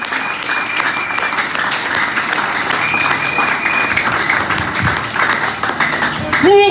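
A church congregation applauds during a sermon, with sustained dense clapping filling the room and voices calling out over it.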